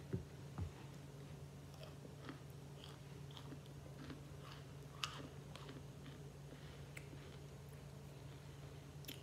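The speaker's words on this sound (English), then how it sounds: "they want to hear you crunch on it, eat on it." Close-up crunching and chewing of hardened cornstarch chunks, with repeated small crisp bites and soft mouth sounds over a steady background hum.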